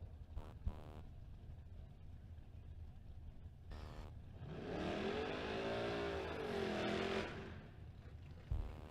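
Ford Fox Body Mustang drag car in the burnout box at a drag strip, a distant engine swelling into a sustained rising and falling rev in the middle, faint and windy, with brief voices around it.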